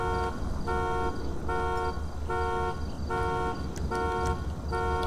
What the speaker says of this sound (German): Eieiei, die Alarmanlage, die geht ganz schön auf die Nerven.